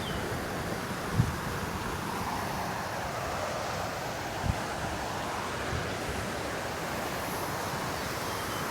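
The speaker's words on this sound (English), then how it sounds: "Let me get a picture over here of this waterfall." A waterfall pours in a steady broadband rush, a constant close wash of falling water with no pauses and only a couple of faint knocks.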